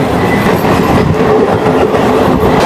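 Inside the 08641 Adra–Barkakana MEMU special train on the way to Purulia, loud continuous rumble of the carriage on the rails with a dense rattling clatter throughout, no talking.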